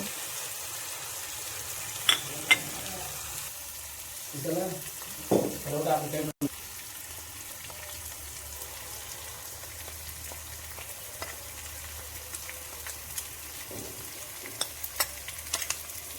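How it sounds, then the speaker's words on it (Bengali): Ground spices frying with onion and ginger garlic paste for chicken kosha mangso, a low soft sizzle with a few bursts of stirring scrapes and spatula taps early on, then a quieter simmering hiss with small pops. "মশলাটা খুব সুন্দর করে ভেজে নিয়েছি"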